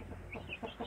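A crossbred hen, from a native kampung mother and a Bangkok-line rooster, gives a few short soft clucks close by, faint and brief, with no talk over it.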